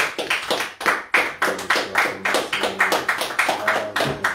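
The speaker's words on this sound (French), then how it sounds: "Est-ce qu'on peut encore applaudir pour Jésus-Christ?" A church congregation claps along during a French-language sermon, sharp rhythmic hand claps in a steady beat, loud and close, with a faint hum beneath.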